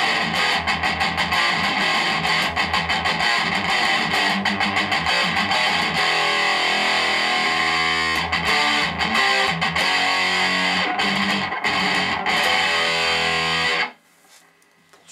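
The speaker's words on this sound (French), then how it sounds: "Et donc, avec ça, plus de profondeur dans la distorsion, vous pouvez faire du thrash metal à votre aise." Electric guitar played through a Tep's Amps Dual Gain amplifier with heavy thrash-metal distortion. Loud chugging palm-muted riffs and sustained chords continue for about fourteen seconds, then cut off abruptly into near silence.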